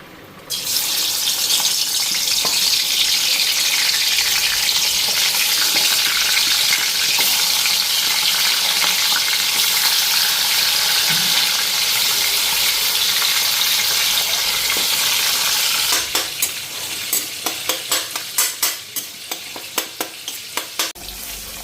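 Fish heads rubbed with salt and turmeric sizzle steadily in hot oil in a wok, a loud continuous frying hiss that turns into clattering stirring strokes near the end, with no talk.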